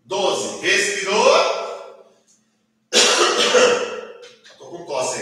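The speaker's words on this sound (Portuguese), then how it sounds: "Estou com tosse ainda." Someone in an exercise class coughs in two harsh, close bursts separated by a short silent pause, with a further burst at the end.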